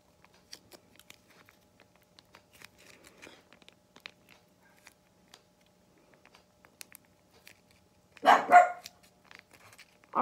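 A dog in the house gives a short pair of barks, moderately close, amid quiet faint ticks and rustles.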